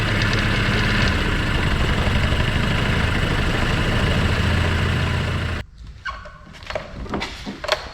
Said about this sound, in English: I'm going to put it in gear and let it just idle in gear for a while